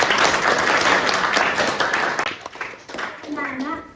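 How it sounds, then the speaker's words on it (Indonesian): Students in a classroom lesson clap their hands together in a brief burst that fades after a couple of seconds, followed by a teacher's voice talking. "tepuk tangan buat kalian"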